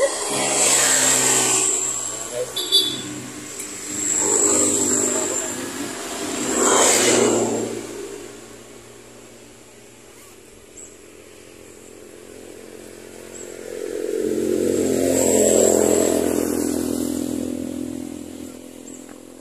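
A small motorcycle carrying riders on a road buzzes and revs in swelling waves, loud up close then easing off into a quieter lull before picking up again, with wind noise over it.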